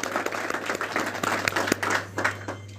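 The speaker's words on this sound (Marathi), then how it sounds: "यांच्यासाठी एकदा जोरदार टाळ्या वाजूया." An audience at a Sant Ravidas Jayanti public function breaks into applause, a loose dense patter of many hands clapping with a steady low hum beneath, tapering off toward the end.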